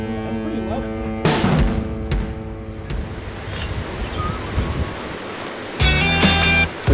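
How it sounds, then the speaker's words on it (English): A river flows past a campsite with a constant broad rushing wash, while people talk over it intermittently. "Really cool spot next to the river."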